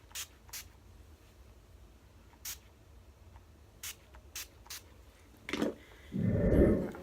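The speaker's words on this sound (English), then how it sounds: "Take a setting spray and just" Two short bursts of makeup setting spray hiss near the end, the second longer and louder, following a few faint clicks and taps in an otherwise quiet room.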